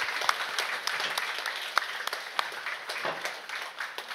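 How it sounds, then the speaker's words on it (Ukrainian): Audience applause at a Ukrainian–Crimean Tatar literary contest awards ceremony, a steady dense patter of many hands clapping throughout, fairly close and even with a few sharper individual claps. "Можете оплесками так зустрічати."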